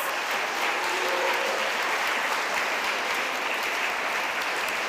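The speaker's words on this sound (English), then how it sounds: "So a big round of applause." A film festival award ceremony crowd gives loud, steady applause, a dense wash of clapping that holds evenly throughout.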